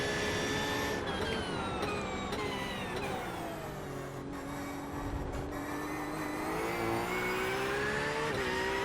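An LMP2 race car in the iRacing sim at Portimao, a loud sustained engine whine with shifting pitch as it accelerates and other cars pass close by, no talk.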